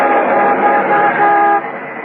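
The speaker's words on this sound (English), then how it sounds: "As I pulled to a stop, a big passing truck nearly sideswiped me." A big truck roars past close by in a radio drama, a loud steady rushing engine drone with a horn-like tone that holds for about a second and a half, then drops away.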